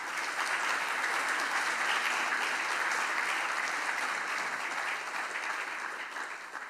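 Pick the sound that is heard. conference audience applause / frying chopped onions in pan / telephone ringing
conference audience applause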